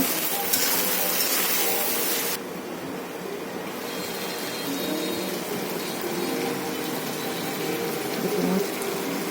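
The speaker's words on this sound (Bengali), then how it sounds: "একটু পানি দিব হালকা পরিমাণ পানি দিব" Water poured from a container into a pot of guchi fish curry with potatoes, a steady gushing splash that runs loud for a couple of seconds, then eases into a continuous softer trickle and bubbling.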